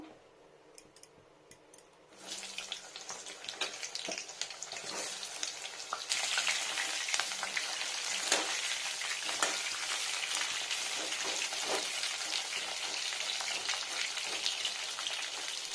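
Pointed gourd (potol) pieces sizzle as they fry in hot white oil, starting quietly after a brief pause, then a steady close crackle that grows louder partway through and keeps going with no talking.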